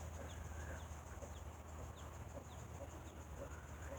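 Hens and chicks around a nest box give soft, scattered clucks and peeps against a faint steady background hum, quiet and somewhat distant.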